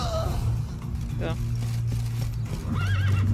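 A horse in the Witcher 3 video game whinnies loudly twice, with high rising and falling cries as its rider tumbles off, over faint hoof clip-clops, game ambience and a steady low hum.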